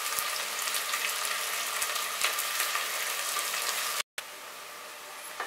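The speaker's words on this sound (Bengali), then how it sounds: "পেঁয়াজটা আমার হয়ে গেছে ভাজা, এটা কিন্তু লাইট ব্রাউন হবে" Chopped onion frying in oil for a mutton kosha, a steady loud broadband sizzle throughout with faint stirring, briefly cut off near the end before resuming.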